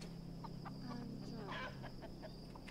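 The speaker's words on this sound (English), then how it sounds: "Can you get the chicken up?" Video game chickens clucking in short repeated bursts during a horror co-op game set in Malaysia, over a steady background hum and tone.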